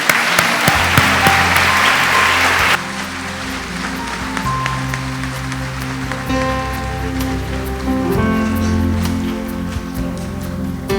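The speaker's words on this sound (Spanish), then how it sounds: "Démosle un aplauso a los varones" Church congregation applauding the men during a wedding-vow renewal ceremony, a loud burst of clapping that drops sharply after a few seconds into softer, scattered applause with sustained music or keyboard tones running beneath.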